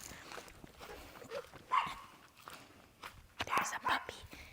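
A neighbor's dog barks in a few short, sharp bursts at middle distance, while people talk quietly nearby.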